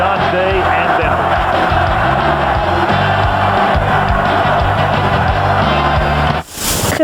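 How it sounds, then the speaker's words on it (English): A football stadium crowd in Denver chants for John Elway during a 1997 AFC Wildcard game against the Jacksonville Jaguars, a loud, sustained roar with rhythmic chanting that continues steadily before a brief dip and burst near the end. "the crowd chanting Elway, Elway"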